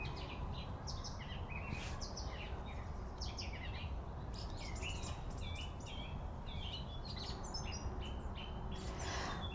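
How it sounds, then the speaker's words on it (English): Birds chirp and sing at dusk around an English village, several small calls scattered across a steady outdoor hiss, moderately distant, with no talking. "I think we'll just listen to the birds for a moment."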